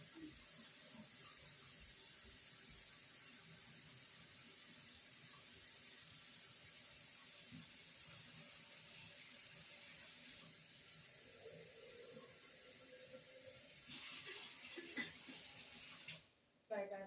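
Water runs steadily from a tap for an indoor tea party setup, a continuous hiss lasting most of the clip with faint background voices and small clinks, stopping abruptly near the end.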